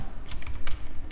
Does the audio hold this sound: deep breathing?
no